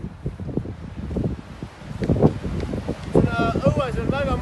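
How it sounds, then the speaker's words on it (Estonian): Gusty outdoor wind buffets the microphone with a steady roar that rises and falls, while someone talks over it. "Õues on väga mõnusalt tuuline"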